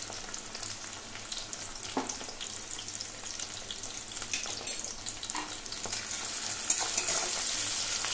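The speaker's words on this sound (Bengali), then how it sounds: "সমস্ত কিছু খুব ভালো করে নুনটা টমেটো আর পেঁয়াজের সাথে মিশিয়ে নেবো।" Onion, tomato and salt sizzle in a frying pan under a close, steady hiss that grows slightly louder, with occasional scrapes of a spatula stirring and no voices.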